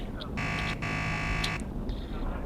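Departure buzzer in a diesel railcar train simulator game, a steady harmonic electronic tone sounding in two bursts of about half a second and then nearly a second, over low engine rumble.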